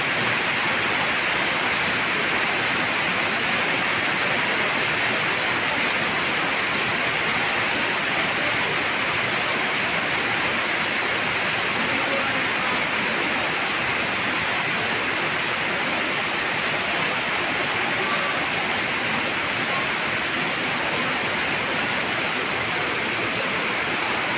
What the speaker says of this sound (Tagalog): Naka-swimming pool tapos umuulan ng lakas.